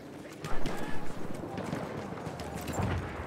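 Galloping horse hooves in the World War I shooter Battlefield 1, a rapid clip-clop rhythm mixed with battlefield noise and distant gunfire while someone talks over it.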